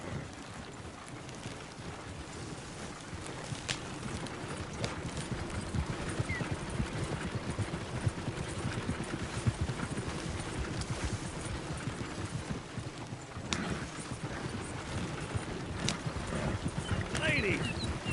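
A horse in a video game gallops toward Valentine with steady, rhythmic hoof clip-clops all the way through, under talking voices.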